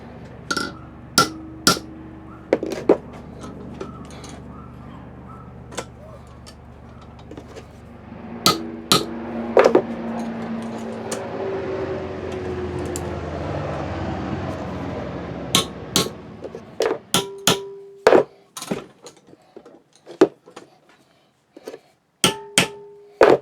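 Metal hammer strikes ring out on a sword guard clamped in a vise as its spikes are bent, sharp isolated blows in loose bursts with a steadier noisy stretch of work in the middle, close and loud.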